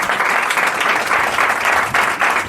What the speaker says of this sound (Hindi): यीशु के लिए ताली बजा सकते हैं।